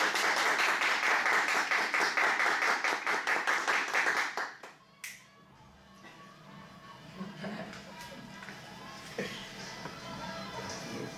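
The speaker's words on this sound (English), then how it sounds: "Give yourselves a round of applause." A round of applause from a crowd at a primary school radio station opening, loud steady clapping that fades out after about four seconds, leaving quieter room noise and scattered sounds.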